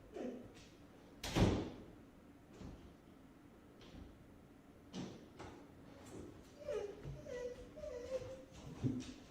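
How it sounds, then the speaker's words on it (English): During a paranormal investigation, a closed door rattles and thumps as if its top edge is being pulled, with a sharp loud knock early on, then scattered softer bumps and faint murmuring voices. "It's like the door's closed and then the top of the door is being pulled"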